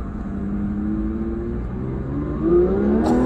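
A naturally aspirated engine in a new Porsche 911 GT3 revs on a track at part throttle, rumbling loudly from inside the car. The pitch rises steadily, then climbs again with a brief higher surge near the end.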